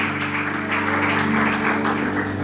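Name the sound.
congregation applauding in church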